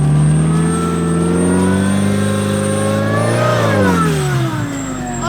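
A Mazda Miata, a modified tank-style build, drives through a tight gully with its engine running loud and close, revving up to a peak and then easing off near the end.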